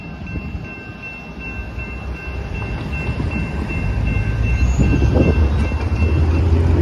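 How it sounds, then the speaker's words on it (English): A Union Pacific concrete train passes at Stassney Lane as a steady loud rumble of rolling cars and wheel noise that builds gradually, with faint high squeal tones along the rails. "that was the Union Pacific concrete train"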